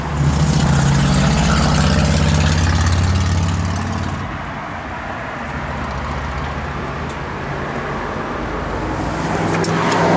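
A parked car's engine runs at idle with a steady, loud rumble close by, with no speech over it.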